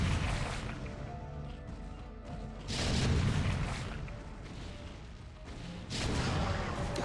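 Siege tanks firing in StarCraft: Brood War, heavy booming artillery blasts that swell in dense bursts over a constant battle rumble, loud and sustained through the whole stretch.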